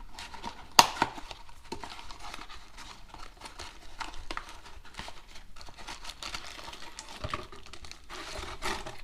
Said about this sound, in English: comes in a plastic bag. Open it up.